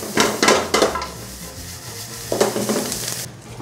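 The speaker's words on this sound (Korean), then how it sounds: "이제 센불에 아주 빠르게 한번 볶고" Anchovies and cheongyang chili peppers stir-fried fast over high heat, with several loud bursts of sizzling and scraping from the pan, then steadier frying hiss.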